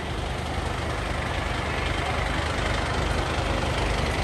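A fire engine idles on a city-centre street in Sheffield, a steady low diesel rumble holding constant and fairly close throughout, with no voices.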